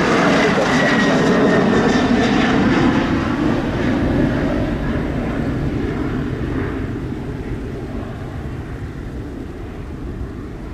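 A Southwest airliner takes off from runway 7 at Montego Bay airport in Jamaica, its engines a broad, heavy roar that is loudest at first and slowly fades as the jet moves away.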